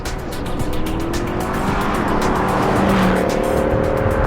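A 2008 Mercedes-Benz C63 AMG engine revs hard and close, its note climbing and then dropping cleanly through a seamless transmission upshift before pulling up again, with no talking.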